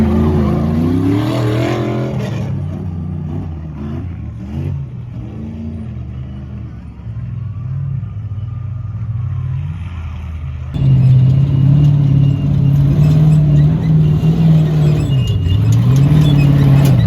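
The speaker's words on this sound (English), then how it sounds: "We missed the leaders come through, but these are all top 10 cars." Off-road race cars in the King of the Hammers race, engines roaring and revving as top-ten cars pass close by, one loud pass surging in near the end, with brief talk over the noise.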